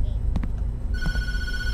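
In the horror video game Tattletail, a telephone rings with a steady electronic tone that begins partway through, heard close and clear over low background noise and a couple of brief knocks.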